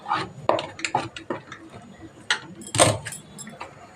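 A spoon scrapes and clinks against a pan while stirring masala for Nethili anchovy fish curry, irregular close metallic knocks and scrapes, with no talking.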